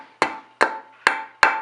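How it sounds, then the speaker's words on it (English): Four sharp, evenly spaced hammer blows ring out close up as a standard hammer knocks protruding screw tips off a wooden coat rack board, each strike leaving a short metallic ring. "I find it easier to just use a standard hammer. Just hit the nail or screw"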